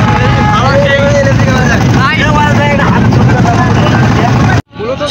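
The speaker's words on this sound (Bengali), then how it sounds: "নৌকা চলছে নিজ গতিতে, আনন্দ দিচ্ছে আমাদের সকলকে।" A boat's engine drones steadily on a river, loud and close, while voices talk over it before the sound cuts off abruptly near the end.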